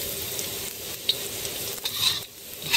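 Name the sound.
tofu frying until golden brown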